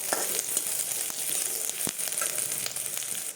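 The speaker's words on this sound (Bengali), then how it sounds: "পেঁয়াজগুলো একটু লাল লাল করে ভেজে নেব।" Onions frying in a pan for a curry of green banana, potato, aubergine and lentils, a steady bright sizzle with small crackles and pops running throughout, close and fairly loud, no talk.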